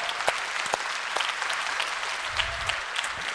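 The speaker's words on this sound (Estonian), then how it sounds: "Tehke endale üks suur aplaus" Audience applause at an inspirational opening show for an entrepreneurship programme, a dense wash of many hands clapping steadily for several seconds, with a few sharper individual claps standing out.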